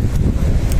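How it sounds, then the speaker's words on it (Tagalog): Wind buffets the microphone on a small passenger boat out on the water in rough weather, a steady low rumble and roar throughout with no voices. "Sarap ng hangin dito mga agawad."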